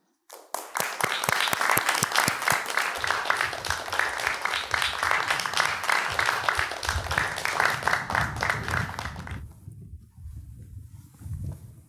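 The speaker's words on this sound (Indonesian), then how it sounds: "kita beri tepuk tangan yang meriah untuk Ahmad Sahal dan Gunawan Muhammad" Audience applause at a book launch event, starting abruptly and building into sustained, lively clapping that fades out near the end, followed by a quieter low background murmur.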